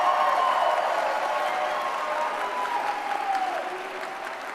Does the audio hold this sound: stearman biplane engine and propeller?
no